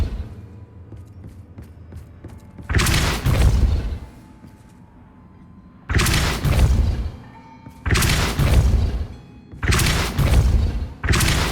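The Depulso spell is cast in the video game Hogwarts Legacy, heard as four heavy, booming blasts with deep thuds, separated by quieter background gaps.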